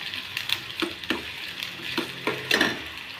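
Onions fry in a pan until browned for a village-style pigeon pea usal, a soft continuous sizzle punctuated by several spatula stirring strokes, close and quiet, with no speech.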